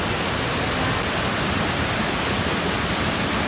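A waterfall roars in a loud, steady, unbroken rush of water, close by, with no voices.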